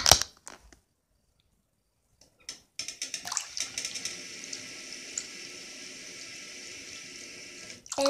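A toy Titanic tipping over and sinking in a water-filled sink, with a few splashy sloshes and drips, a quiet pause, then continuous gentle running and trickling water close by.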